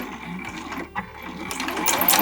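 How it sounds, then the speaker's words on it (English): Sewing machine stitching cotton tote bag fabric with a 1/2 inch seam, running in short bursts with a rapid mechanical needle rattle, a pause and restart for back stitching, close and steady. "I'm just sewing 3 sides with a 1/2 inch seam allowance, back stitching at the beginning and the end"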